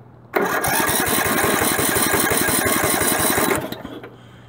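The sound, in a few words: Craftsman lawn tractor starter cranking engine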